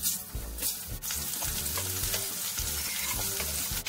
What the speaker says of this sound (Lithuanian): Apkepinam grybus